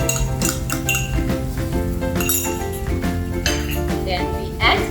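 Rempah and fermented bean paste being stir-fried in a pan, with clinks and scrapes of a utensil against the pan over a light sizzle, under steady background music.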